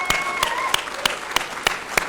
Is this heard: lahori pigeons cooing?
no